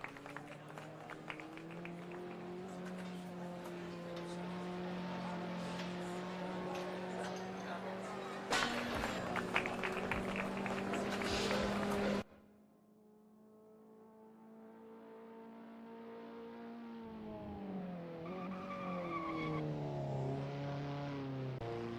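Caterham race cars on their out lap in the video game Assetto Corsa, with steady engine drones that hold and then shift in pitch as the cars accelerate and change gear, loud and close, then fading and rising again.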